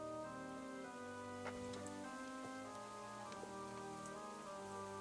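Steady rain falls in the village-building game Rise to Ruins, a continuous soft patter of drops over a background of sustained music tones, with no talk.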